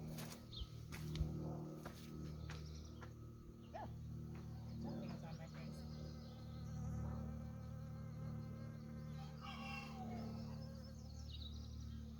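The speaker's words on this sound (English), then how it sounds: "There's a bee in this flower." A honeybee buzzing inside a flower outdoors, a close, steady insect drone with a faint hum that rises and falls, under occasional quiet talk and ambient outdoor noise.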